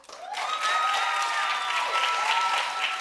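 A studio audience at a TV talk show breaks into clapping, starting abruptly and building into steady, dense applause with some light cheering mixed in.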